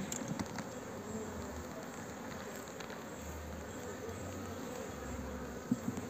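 A dense swarm of honeybees, nurse bees in a mating nucleus hive, buzzes continuously nearby, a steady droning hum with occasional louder passes of individual bees.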